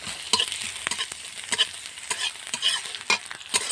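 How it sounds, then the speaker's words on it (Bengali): Garlic paste fries in reddened chopped onions in a pan, with a steady sizzle broken by repeated scraping stirs of a spatula, close and loud, with no voices. "এবার দেব রসুন বাটা"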